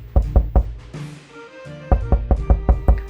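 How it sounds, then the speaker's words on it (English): Sharp knocks on a front door come in a quick group of three, then, after a pause, a second run of about six raps. The knocks are close and loud and play alone with no talk. "A mailman knocked on Squidward's front door."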